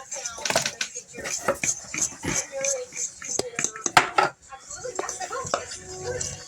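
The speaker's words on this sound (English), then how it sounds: "I don't care how quiet you try to be doing dishes. You still end up being loud." Dishes being washed by hand in a home kitchen, with irregular close clatters and clinks of pots, plates and cutlery, rapid and sharp, under scattered voices.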